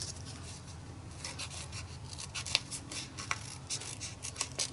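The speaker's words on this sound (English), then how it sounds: "I am just going to trim it right now" Scissors or a blade trim a paper craft piece, giving faint, close rasping and rubbing strokes with a few sharp snips and clicks in a quiet room.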